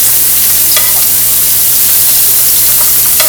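Bacon grease sizzles in a hot pan with a loud, close, continuous crackling hiss and a few sharper pops, with no talking.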